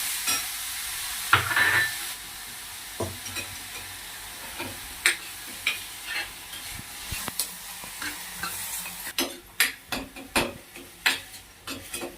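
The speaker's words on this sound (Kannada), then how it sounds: "ಈಗ ಹಸಿ ವಾಸನೆ ಹೋಗುವಲ್ಲಿ ಇದನ್ನು ಫ್ರೈ ಮಾಡ್ಕೊಳ್ಳಿ." Grated cucumber is stir-fried in a pan, giving a soft continuous sizzle broken by irregular sharp scrapes and clinks of a spatula against the metal, growing busier toward the end, with no talking.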